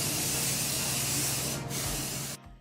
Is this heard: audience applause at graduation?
no